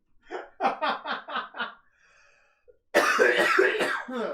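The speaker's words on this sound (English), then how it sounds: "he coughed 3 times" A character in the Persona 5 video game coughs in a quick run of short, rhythmic bursts, then a loud, dense wash of game sound follows.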